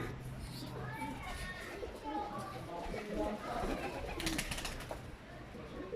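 Pigeons coo softly amid a busy outdoor scene, with children's voices and chatter around them and a brief flutter of wings.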